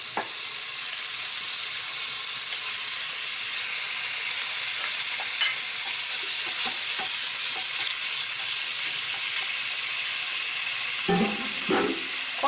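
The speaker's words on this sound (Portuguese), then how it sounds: "Agora eu vou colocar o peito aqui no óleo pra dar uma seladinha nela." Chicken breast searing in hot oil in a pot gives a loud, steady, hissing sizzle that fills the whole stretch. A few utensil scrapes and knocks come near the end.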